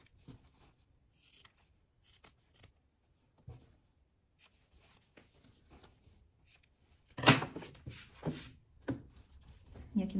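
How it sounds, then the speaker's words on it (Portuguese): Scissors trimming excess zipper from a sewn fabric piece, quiet scattered snips and rustles followed by a louder cluster of cuts near the end. "Corto esse excesso de zíper."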